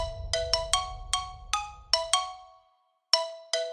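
A phone ringtone late at night plays a bright, melodic run of chiming notes in a steady rhythm, loud and close with no talk. A low rumble sits beneath the first half, and the tune pauses briefly before resuming.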